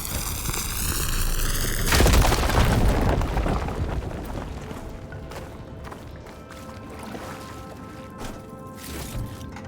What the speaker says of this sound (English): Should be able to blow up that fire gate.